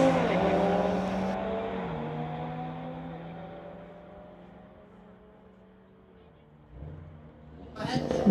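A 2016 VW Golf R and a 2019 Audi drag race down a strip, engines droning loud and then fading into the distance, with a rising rev tone and a fresh burst of noise near the end.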